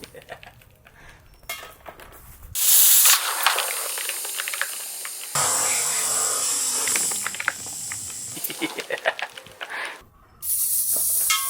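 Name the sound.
shaving foam pushed out of a hydraulic press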